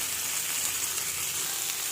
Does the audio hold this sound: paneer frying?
yes